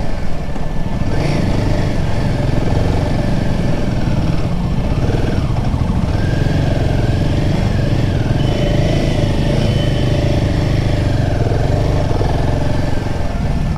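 A motorcycle climbs and descends a winding mountain road at Dawaipani in North Bengal, its engine droning loudly and continuously up close with small shifts in pitch as it revs, no talk.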